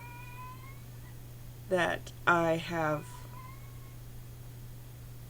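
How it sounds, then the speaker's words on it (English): A house cat yowls close by in two short, drawn-out calls over a low steady hum, with a person talking in the room. "a cat yowling."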